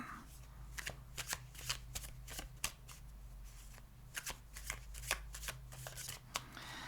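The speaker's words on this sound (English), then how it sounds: "let's get one more card, one more oracle card of advice for Gemini" Oracle cards are shuffled by hand for a tarot reading, giving a quiet, close run of irregular papery riffles and slaps over a low steady background hum.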